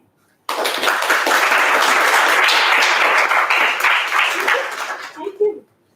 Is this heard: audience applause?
yes